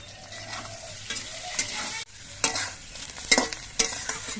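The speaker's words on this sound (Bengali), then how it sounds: "বেগুনগুলো বেশ কিছুক্ষণ নাড়াচাড়া করে বেশ সুন্দর করে ভেজে নিয়েছি" Brinjal slices salted and frying in oil while being stirred in a pan, soft sizzling under repeated sharp scrapes and clinks of the spatula, close and fairly quiet.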